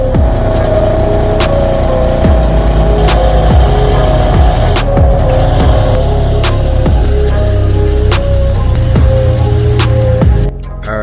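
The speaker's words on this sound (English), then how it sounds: "So I'm gonna go ahead and pull out the car and show you how it looks outside." A BMW F80 rumbles at close range as it is driven out, its engine idling and revving steadily, accompanied by occasional clicks and rattles.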